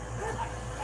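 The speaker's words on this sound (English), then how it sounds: "They're doing all this crazy barking." Puppies kept out back give a few short, yappy barks in the background while a person talks nearby.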